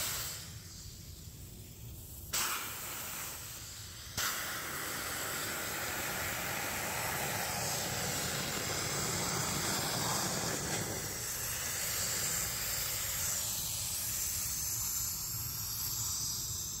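Liquid CO2 sprays into a sock collector to make dry ice, a loud steady rushing hiss that starts abruptly and holds for many seconds, preceded by a couple of short bursts.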